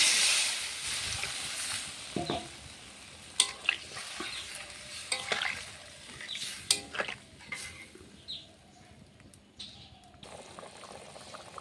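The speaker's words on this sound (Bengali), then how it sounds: "আমাদের আলু মশলা কষানো হয়ে গেছে। জল দিয়ে দেবো।" Water hits a pan of fried potato masala for egg curry, bursting into loud hissing sizzle, then settles into steady bubbling frying with scattered scrapes and clacks of a stirring spoon, close up and without talk.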